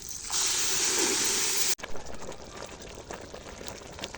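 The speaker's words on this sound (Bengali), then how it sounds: "পরিমাণ মতো গরম পানি দিয়ে দেবো" Hot water poured into rice frying in a pot sends up a loud hissing sizzle that cuts off abruptly, leaving a softer bubbling simmer.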